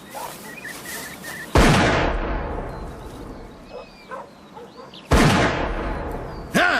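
Shotgun blasts on an outdoor bird shoot: two loud, sharp reports roughly three and a half seconds apart, each with a long echoing decay, and a third beginning at the very end, with faint birdsong and rustling between shots.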